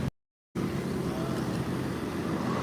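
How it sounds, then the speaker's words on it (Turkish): Buses and other traffic roll past on a street in Cebu, Philippines, a steady, close roar of engines and tires that starts after a brief silent gap. "Bunlar burada otobüs olarak geçiyor."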